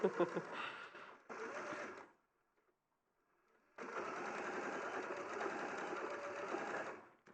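A sewing machine stitches fabric in two bursts close to the microphone, a short run, a pause of near silence, then a longer steady run of rapid whirring.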